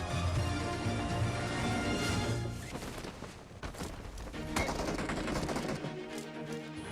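Video game gunfire erupting from behind the player, dense rapid bursts of automatic shots that thin out midway and then return, loud and close with no talking.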